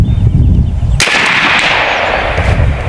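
A B&W Bin Tac S45 air rifle fires a single sharp, loud report at 100 yards, the crack followed by a lingering hiss and decay, with low rumbling background before the shot.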